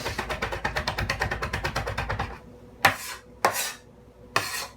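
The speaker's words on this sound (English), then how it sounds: "this is the best way to mince garlic" A kitchen knife chops rapidly on a cutting board while mincing garlic for tomato sauce, about twenty quick even taps in a fast rhythm, followed by three slower, louder scraping strokes across the board.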